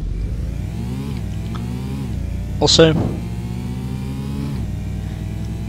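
Porsche 944 engine in the Need for Speed: Porsche 2000 racing game holds a steady mid-pitched drone throughout, with rising revs, while a voice speaks briefly over it.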